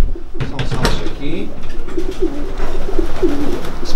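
Soft pigeon coos repeat several times amid ambient noise and a faint voice, close by inside a pigeon loft.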